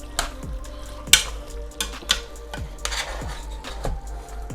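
Sausage and peppers are stirred in a sizzling skillet, with repeated scraping strokes and occasional utensil clinks against the pan over a soft, steady frying hiss.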